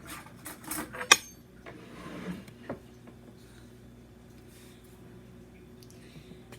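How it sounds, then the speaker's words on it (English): A butter knife is pulled from a cutlery drawer, with a short metallic clatter near the start followed by a few faint taps and rustles, then quiet room tone. "I'm also going to be getting a butter knife as well"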